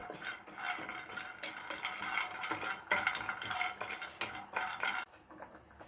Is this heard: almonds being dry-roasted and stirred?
yes